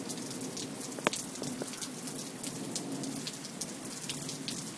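Heavy rain at night pours steadily as a dense, even hiss of drops on surfaces, with a few sharper nearby splats and no voices.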